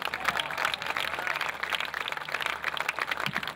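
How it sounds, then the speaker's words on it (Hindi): A crowd at a mushaira poetry gathering in Karachi applauds, the clapping steady and fairly distant across a large audience, with no one speaking over it. "मेरे खुशौक बाशऊर सामीन अपने लिए तालियां बजाएं, मैं भी साथ दूंगा।"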